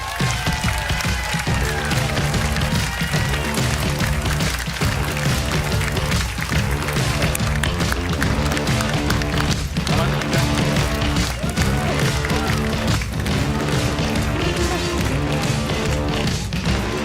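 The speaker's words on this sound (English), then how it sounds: "can I get a round of applause and a welcome to this wonderful stage here at the Circus Tavern" An audience at the Circus Tavern in Essex gives a continuous round of applause welcoming guests onto the stage at a political tour event, loud and dense with music or crowd noise layered underneath for the whole stretch.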